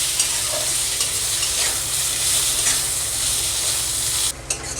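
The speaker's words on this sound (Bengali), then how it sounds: "পেঁয়াজটা দিয়ে আমি পুরো ভালো করে লাল লাল করে ভেজে নেব।" Sliced onions sizzle loudly in hot spiced oil, a continuous bright frying hiss with steady stirring scrapes, stopping abruptly near the end.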